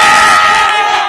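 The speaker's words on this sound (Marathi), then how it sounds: "हा जल्लोष आहे, तिरंगा घेऊन इथे तरुण एकत्र आहेत" A loud, dense crowd of young people waving tricolour flags cheers and shouts in celebration of India's 61-run cricket win over Pakistan, a continuous roar with no distinct single voice.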